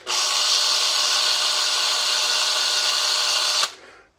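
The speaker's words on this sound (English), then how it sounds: "Now drilled just through these two parts and not the rest." A power drill bores steadily through two stacked parts. A bright, constant whir holds for about three and a half seconds, then stops suddenly and fades away.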